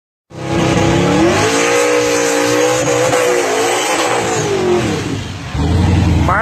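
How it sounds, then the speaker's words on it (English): A Chevelle muscle car revs hard and accelerates at a race, its loud engine note climbing and wavering through the gears before a brief drop and a fresh surge, close by and dominant. "So he gonna race this Chevelle."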